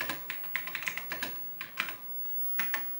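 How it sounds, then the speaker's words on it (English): Keys clatter on an Apple IIe keyboard in quick irregular bursts of crisp clicks with short pauses between, close and clear with no talking. "typing on an Apple IIe keyboard"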